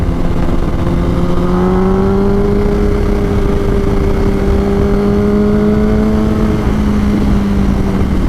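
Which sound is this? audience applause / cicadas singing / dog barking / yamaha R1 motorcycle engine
yamaha R1 motorcycle engine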